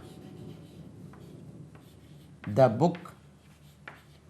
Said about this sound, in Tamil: இங்கே எழுதுகிறேன் பாருங்கள்